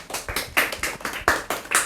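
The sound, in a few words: audience clapping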